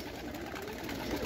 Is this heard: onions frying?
no